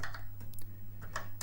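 Quick keystrokes on a Commodore PET keyboard while entering a disk status command, a close, uneven run of clicky taps.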